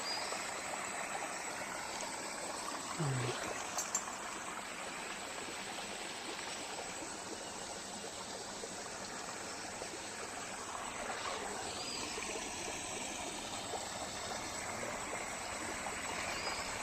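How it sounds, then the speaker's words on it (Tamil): Water from a natural spring in a forest grove flows steadily, a continuous broad rushing and trickling wash that stays even and close throughout, with a brief faint knock early on. "பாருங்கள், நீராடுவதற்கு அருமையான நீர் ஊற்று"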